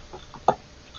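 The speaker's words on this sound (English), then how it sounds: "the sudden sound of a honking goose" A lone goose lets out a single short, loud honk in a forest at night, standing out sharply against a quiet, hissy background.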